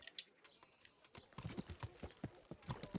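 Hooves clip-clop in an irregular trot from a horse in Kingdom Come: Deliverance, starting faint and growing louder and closer as the steps quicken.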